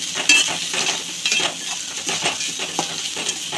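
Grated coconut sautéed and stirred in a pan over low heat for onion kurma, giving a steady close sizzle with repeated scraping strokes and light metal clinks, no voices.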